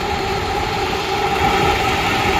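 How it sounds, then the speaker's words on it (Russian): A UAZ off-road vehicle engine idling steadily close by, a smooth continuous hum with a faint tonal whine and no revving or voices. "Так должен мотор в УАЗе работать"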